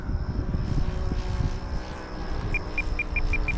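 A Hangar 9 Christen Eagle RC biplane with a Saito 125 engine drones steadily while flying outdoors on its third flight. The sound is moderately distant, and a series of short beeps comes in near the end.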